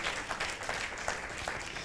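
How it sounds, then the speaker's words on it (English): An audience applauds in a brief burst of steady, moderately loud clapping that fills the whole moment without any talking. "Can I have a resounding applause for that?"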